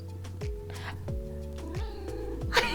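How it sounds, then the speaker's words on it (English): A cat meows several times up close, drawn-out wavering cries with short gaps between them, ending in a sharper, brighter call. "Cat ASMR."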